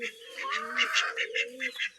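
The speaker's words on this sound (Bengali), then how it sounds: "দেশি হাঁসগুলো বের হয়ে আসবে।" Domestic native ducks call close by, a rapid series of harsh, honking quacks overlapping in quick succession, loud and alone.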